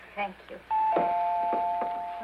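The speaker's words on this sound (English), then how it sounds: "The front door bell." A front door bell in an old radio comedy household rings with a sustained, bright electric tone held for over a second, following a brief spoken thank-you.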